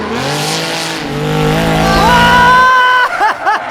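Formula Drift competition car at full throttle, a loud near engine roar climbing in pitch with screeching tires, then breaking into choppy revs as the car slides, with commentators talking over it.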